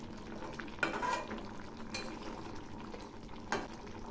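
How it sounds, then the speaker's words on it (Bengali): Mourola fish curry in a pan, a Bengali spicy jhal, being stirred with a utensil: a few sharp clinks and scrapes against the pan over a faint, quiet simmer, with no one talking. "এবার নেড়ে চেড়ে নামাবো।"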